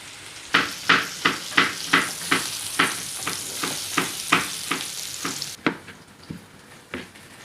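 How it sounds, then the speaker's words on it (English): Bitter gourd being stirred and dry-fried in a pan for an Indian karela dish, with a steady sizzle and a regular run of about a dozen scraping strokes, close and fairly loud, then a few slower stirs; no talking. "I'll continue stirring it and continue doing what I'm doing at this point in time for about 5 more minutes."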